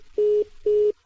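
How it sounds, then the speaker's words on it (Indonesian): Two steady mid-pitched telephone tones sound one after the other after a call is hung up, each lasting about a quarter second with a short gap between them, clear and alone with no talking. "Kenapa kamu tutup telepon?"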